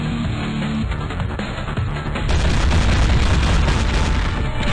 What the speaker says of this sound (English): Sounds very effective weapon, I love it. It's a great gun.